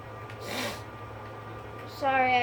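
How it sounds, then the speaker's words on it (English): A single sharp sneeze bursts out near the start, followed by a quiet pause and then a brief snort-like breath, against low background hum. "Sorry, I'm sneezing"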